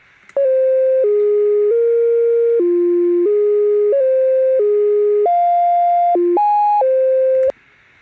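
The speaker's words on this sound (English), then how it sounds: "It's just a sine wave" A clean synthesized sine-tone lead plays a simple melody of steady, separate notes, loud and alone, with no other sounds.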